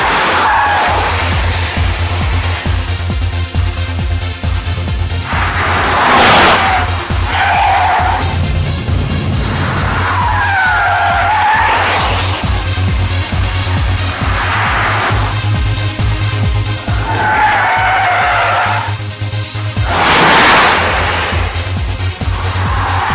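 A car lapping a test track at speed, with engine note rising and falling through the corners and bursts of tyre squeal and skidding, loud and close, mixed with steady backing music and no speech.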